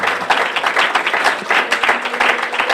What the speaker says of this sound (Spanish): Denle un aplauso al Señor con todo su corazón